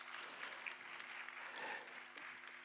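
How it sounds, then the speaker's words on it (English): Audience at a company stock listing ceremony giving a round of applause as dignitaries come on stage, a faint, steady patter of clapping with a low hum underneath. "A nice round of applause."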